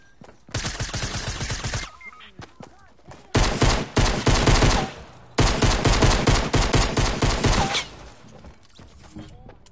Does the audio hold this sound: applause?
no